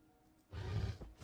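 A polar bear's roar from a Minecraft Bedrock death-animations addon, one short, loud growling burst that swells midway and fades, with a brief second grunt at the end. No talking.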